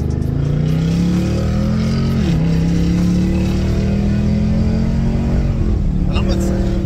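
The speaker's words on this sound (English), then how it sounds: "How you like the way it sounds in the exhaust?" Dodge Challenger R/T with a 5.7 V8, headers and aftermarket exhaust revving: a loud, continuous deep exhaust roar that rises and holds, close by and alone.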